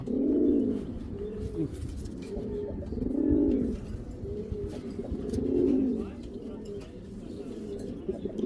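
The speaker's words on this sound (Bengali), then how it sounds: "মাশাআল্লাহ ভাই, কবুতর দুইটা দেখেন ভাই" A pair of racing pigeons coo in slow, repeated rolling calls, close by, with quiet murmuring in the background.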